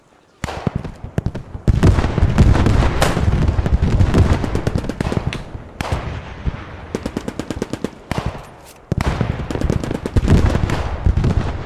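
Tank cannon and machine-gun fire in the Squad 44 video game on a North Africa desert map, loud dense bursts of rapid automatic fire with heavier blasts, a brief pause near the middle, then more sustained shooting.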